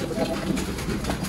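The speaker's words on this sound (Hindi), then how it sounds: "चारों तरफ कबूतर कबूतर" Pigeons coo and flutter around a pigeon cage in a steady, close chorus, with a voice talking over it.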